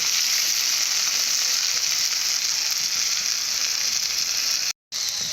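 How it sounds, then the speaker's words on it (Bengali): Bitter gourd pieces fry lightly in oil, giving an even, close sizzling hiss that holds steady throughout, broken once by a brief total silence near the end. "ভালো করে ভেজে নেবো সেটাকে শুক্তো বানানোর জন্য খুব ভালো করে ভাজবো না যাতে তেতো থাকে এর জন্য হালকা করে ভেজে নেব"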